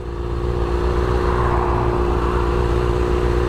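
A car passes by on a road near a freeway, a loud, steady engine rush and tyre roar that swells and holds close by without any talk.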